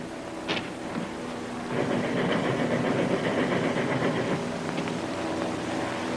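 A moving train from a 1937 film rumbles steadily and loudly throughout, with a brief sharp sound near the start and a fuller, denser rush in the middle section; no voices.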